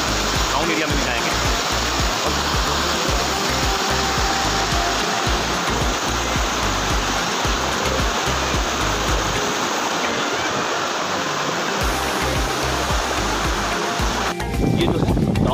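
Rushing water roars loud and steady at the top of Honhed waterfall near Keshkal, where a stream pours in from behind, a continuous broadband wash heard close up with no talk over it.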